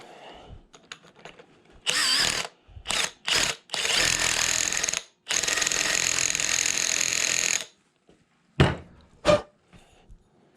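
Power deburring tool working the cut end of a pipe for a landscape wiring job, heard as several loud whirring bursts of differing length separated by pauses and small clicks and knocks.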